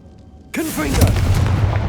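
Confringo blasting spell in the Hogwarts Legacy video game, a sudden booming explosion after a brief quiet lead-in, followed by a rolling rumble with a voice layered over it.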